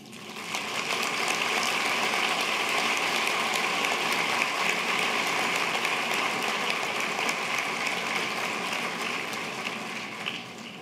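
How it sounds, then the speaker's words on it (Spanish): A large crowd at a UPAEP university graduation ceremony claps for the graduates' families in one steady, dense burst of applause. It holds at an even, loud level for about ten seconds and thins slightly at the end, with no voices over it. "Pido un aplauso para sus familias que los apoyaron."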